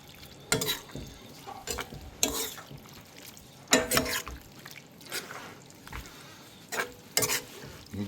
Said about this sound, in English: I'm going to sprinkle some of the Parmesan on here. And I'm going to fold this in.